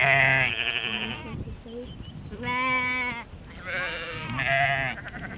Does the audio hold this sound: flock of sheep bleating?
yes